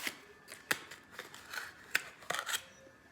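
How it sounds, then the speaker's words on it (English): Scissors cut paper flower liners in half with a quick series of crisp snips, some close together and others spaced apart, fairly quiet in a calm room. "we're gonna cut them in half."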